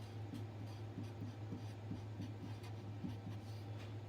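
A pen scratches out a math expression in quick, rhythmic strokes, soft and close, with a low steady hum underneath throughout.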